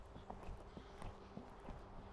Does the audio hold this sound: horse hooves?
yes